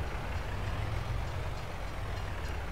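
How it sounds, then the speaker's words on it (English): Train rolling past in Farming Simulator 22, a steady low rumble of wheels and engine heard from a distance, continuous and fairly faint, with no talking. "Nice to see the train running past."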